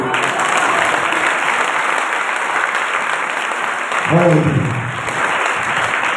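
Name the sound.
audience clapping for Jesus in church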